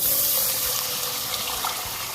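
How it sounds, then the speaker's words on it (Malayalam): Water pours steadily into a cooking pot of ghee with fried leaves, a continuous splashing rush, close and fairly loud, with no talking. "ഇനി നമ്മൾ എടുത്തു വെച്ചിട്ടുള്ള ഈ വെള്ളം ഇതിലേക്ക് ഒഴിച്ചു കൊടുക്കാം"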